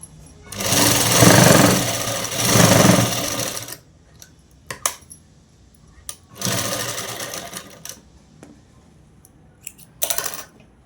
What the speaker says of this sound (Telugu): ఇప్పుడు కాజా పట్టిని ఇంకో కుట్టు అనేది వేసేసుకోవాలి.